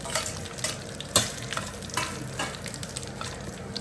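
Fried bitter gourd tossed with masala in a pan, a soft sizzle under repeated scraping and clinking stirs. The stirring is faint and close, and no one speaks.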